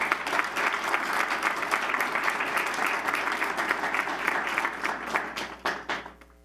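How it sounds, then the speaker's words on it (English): An audience at a school board meeting applauds a sixth-grade award recipient, giving dense, sustained clapping that thins into scattered individual claps and fades at the end. "please give a big round of applause to our President's Award recipient, Mesa Vista Elementary School sixth grader"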